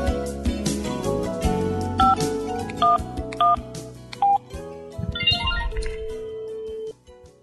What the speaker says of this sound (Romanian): Manino fotsiny le telefona fa tsy mandray mihitsy Marius?